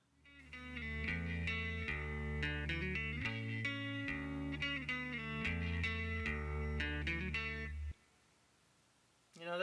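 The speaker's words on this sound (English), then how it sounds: "And let's add some reverb." A clean electric guitar plays a chord progression with reverb added while being mixed on a phone. The last chord rings out into a short, soft tail before the clip ends.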